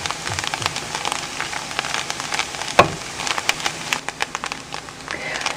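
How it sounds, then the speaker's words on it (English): Spinach and onions cooking in a pan for spanakopita, giving a steady soft sizzle and crackle with scattered pops and one louder clatter partway through, close and continuous without talk. "I'm going to add it to the onions, and we'll cook this for a few minutes just to make sure all the moisture evaporates"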